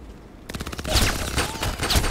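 Sharp rapid gunfire bursts in the shooter Contract Wars on the Carpound map, starting abruptly after a brief quiet and continuing as fairly loud, repeated cracks.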